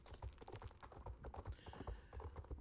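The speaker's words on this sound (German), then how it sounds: "ich muss jetzt die neuen Hufgeräusche nicht wirklich haben, auch wenn sie schön anhören" Horse hooves clip-clopping in the online game Star Stable, a steady rhythmic run of close, crisp hoof beats on a hard surface, heard alone without any talking.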